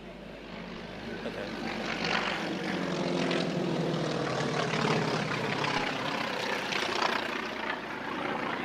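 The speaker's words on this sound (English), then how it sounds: "Should be a strafing run." A propeller aircraft making a strafing pass during an Anzac Day event at Bargara, a steady droning engine roar swelling and fading at moderate distance with faint background noise.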